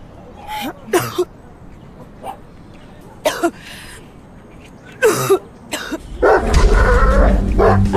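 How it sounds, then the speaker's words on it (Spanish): A dog gives several short, harsh barks and coughing growls up close, scattered in bursts, ending in a rougher, louder stretch of noise. "Este perro no es nada amigable, hasta me quiere morder."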